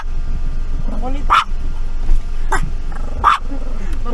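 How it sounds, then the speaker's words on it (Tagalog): A small pet dog yips and barks in short bursts, three sharp barks spaced about a second apart, close by, with people talking around it at a lake farm day tour. "May aso po kasi enter na po."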